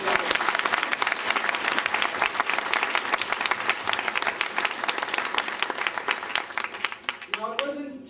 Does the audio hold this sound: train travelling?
no